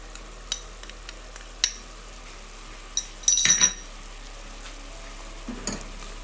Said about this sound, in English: when the onions have caramelized brown, add the turmeric and cumin